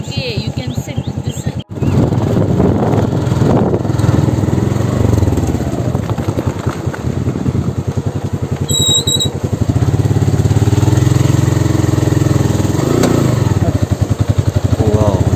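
A motorcycle ridden on a slippery road near a lake outside Bangalore, a loud steady engine drone with rattling and wind buffeting throughout, a rider's voice faintly mixed in.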